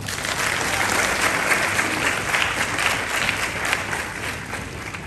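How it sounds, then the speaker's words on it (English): An audience applauds steadily, a dense wash of many hands clapping at once that carries on without a break. "A round of applause for him."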